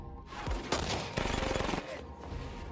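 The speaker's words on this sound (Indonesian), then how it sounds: "terjadilah baku tembak yang sengit" Heavy gunfire in an action film shootout with a corrupt police crew: dense overlapping bursts of shots and impacts, loud and close, with sharp peaks over a continuous rattle.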